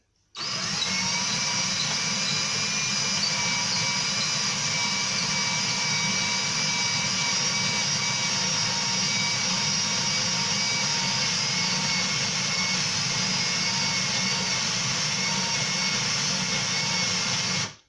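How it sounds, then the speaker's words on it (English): Homemade turbo coffee grinder grinding coffee beans, giving a loud, steady high-pitched whine with a tonal hum that runs continuously for about seventeen seconds before cutting off. "Now let's grind some coffee."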